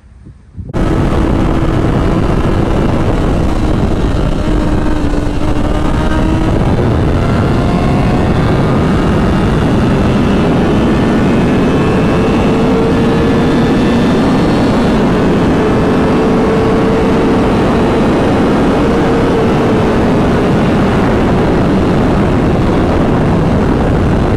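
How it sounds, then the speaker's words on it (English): A Yamaha R6 sport motorcycle engine drones loudly and continuously at highway speed, its pitch climbing and easing as it revs through the range, with road and wind noise beneath. "The bike was revving all through the rev range"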